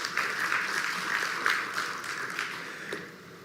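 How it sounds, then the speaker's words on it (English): Audience applause at the IBT Summit South Africa 2026 conference, a steady wash of moderately distant clapping with a few sharper claps standing out, tapering off toward the end. "A round of applause, ladies and gentlemen."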